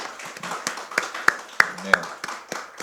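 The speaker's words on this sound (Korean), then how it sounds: "우리 박수로 한번 격려해 주시겠습니까?" A church congregation gives a short round of scattered clapping during a Friday worship service, a handful of distinct hand claps ringing out over a murmur of voices.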